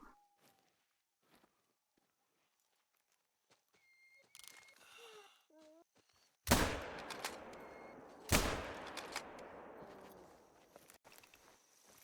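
Two loud rifle shots in theHunter: Call of the Wild, the first at about six and a half seconds and the second two seconds later, each followed by a rolling echo over quiet outdoor ambience with birdsong.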